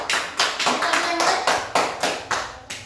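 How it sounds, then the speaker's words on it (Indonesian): A class of students claps for Lasri after a cooking demonstration in an Indonesian language lesson, with a handful of sharp, separate claps in an uneven rhythm and voices mixed in. "Tepuk tangan untuk Lasri dulu"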